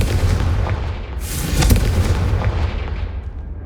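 A Confringo fire spell explodes in the Hogwarts Legacy video game: a loud, close, booming blast with a sharp crackling burst in the middle that fades into a rumbling tail, with no voices.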